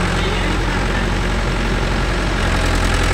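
A Mahindra 575 DI tractor fitted with cage wheels runs steadily in a field, its low, heavy diesel engine idling with a constant rumble that stays loud and close throughout.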